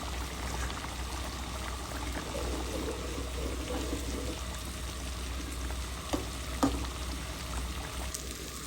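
Churi fish frying in a pan with four green chilies on top produces a continuous, even sizzle and bubbling at close range, with a couple of faint utensil taps and no talk.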